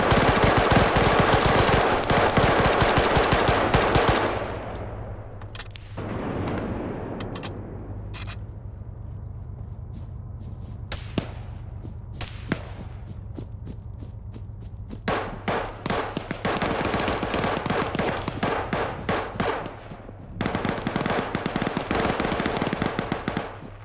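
Bursts of automatic and single-shot gunfire in Arma 3, a heavy sustained volley opening loud, then scattered cracks and rattling fire, with dense rapid bursts returning later.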